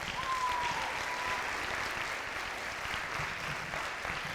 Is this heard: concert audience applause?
yes